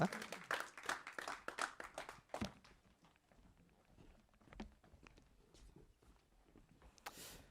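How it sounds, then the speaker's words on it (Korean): An audience claps after a team's presentation at a final showcase, scattered sharp claps dense at first and then thinning to a few sparse, quieter ones before a brief final burst. "박수 힘차게 부탁드립니다."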